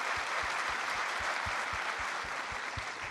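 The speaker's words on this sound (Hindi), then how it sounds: "ज़ोरदार तालियां बजाइए, बड़ी ज़ोरदार।" Dense applause from a crowd at the Pakistan Literature Festival in Lahore fills the clip, a steady wash of clapping with rhythmic stronger claps beating through it, no voices on top.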